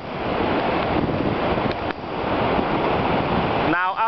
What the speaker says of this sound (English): Alex, you've seen Atlantic Ocean, now you've seen Pacific Ocean